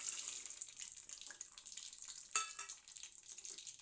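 Mustard seeds, cumin, peanuts, curry leaves and chana dal frying in hot oil for palak rice give a steady close hiss and crackle with faint stirring scrapes and one sharper pop.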